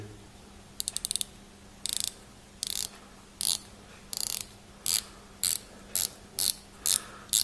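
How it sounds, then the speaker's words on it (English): The bezel of a Helson 42mm brass Shark Diver watch is turned in short bursts, about ten crisp, close ratcheting click runs separated by brief pauses. "Nice bezel action as ever."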